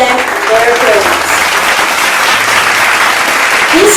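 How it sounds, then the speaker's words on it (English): An audience claps steadily and loudly for honor pupils and their parents at a school recognition ceremony, a dense, sustained round of applause lasting several seconds. "Let us all clap our hands for them and their parents."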